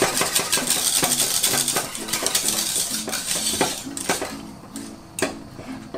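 A whisk clatters and scrapes rhythmically against a saucepan as pastry cream cooks on the heat, a steady run of quick metallic strokes heard close up with no voices.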